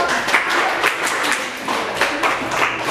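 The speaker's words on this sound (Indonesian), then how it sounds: "Kita kasih aplaus dulu untuk kelompok" A classroom of students applauds a group that has just presented, steady mid-loud clapping from many hands throughout three seconds, slightly uneven in rhythm.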